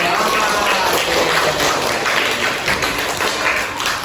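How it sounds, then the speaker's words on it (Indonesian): A classroom of students clapping on command, a dense steady patter of many hands sustained throughout at close range, with no pause. "Kalau merah, berarti kamu nanti tepuk tangan"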